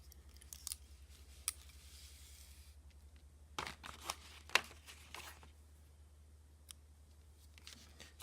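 Scissors snip thread while finishing a sari ribbon flower, giving a few short, crisp cuts and small handling rustles over a steady low hum, close and fairly quiet.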